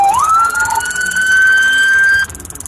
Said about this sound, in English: As the trooper hears the sound of approaching backup sirens